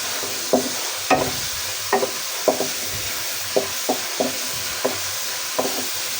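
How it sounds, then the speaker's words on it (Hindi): Spaghetti ingredients fry in a pan with a steady close sizzle, broken by regular spoon scrapes and taps while being stirred, with no talking. "एक से 2 मिनट मज़ीद भूनेंगे"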